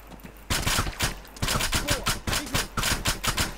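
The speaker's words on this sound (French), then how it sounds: "Ouais, ça me tire dessus." Repeated rifle shots from ArmA 3 crack in quick bursts of several rounds each, separated by brief pauses, sounding fairly close and loud.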